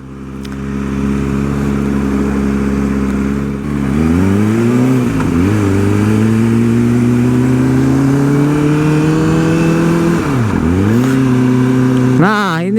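A motorcycle rides through Tokyo streets, its engine droning steadily with rising and falling revs through gear changes, loud and close, with a voice talking over it.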